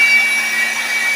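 An electric blower runs steadily and loudly with an even, high-pitched motor whine and rushing air, holding constant throughout with no talk.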